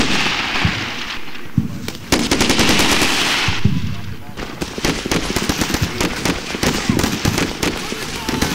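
In the video game Combat Mission: Shock Force, machine guns fire loud, rapid rattling bursts, near and continuous, mixed with sharp single shots and booming battle noise.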